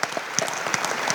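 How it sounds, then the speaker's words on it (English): A crowd at a live show applauds the anchor Nisha Mathur: a brief, dense burst of sustained clapping from a sizable audience, moderately loud and without talk. "Another round of applause for that lady"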